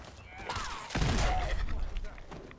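A grenade goes off in the game Fallout 4, a heavy, close boom about a second in with a rumbling tail, against background gunfire and faint voices.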